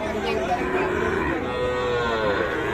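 A bovine moos loudly and close by at a livestock market where Sahiwal bulls and calves are sold, one drawn-out bellowing call over faint crowd murmur.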